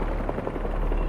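Low pulsing thump of helicopter rotor blades in the Spider-Man 2 video game, a steady rhythmic beat close up and alone, with no voices over it.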